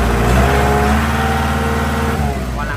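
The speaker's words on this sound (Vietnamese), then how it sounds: "Tua họ lên đầy đủ luôn anh em thấy không?" A Kubota L4708SP tractor's diesel engine revs up and holds a loud, close, steady mid-pitched roar before easing slightly at the end.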